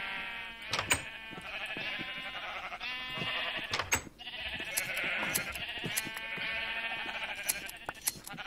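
Repeated Minecraft sheep bleats overlap one another with bright, wavering tones, a near and steady chorus with small clicks scattered through.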